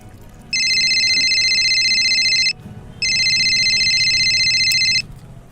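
A phone rings twice, each electronic ring lasting about two seconds with a short gap between, loud and close.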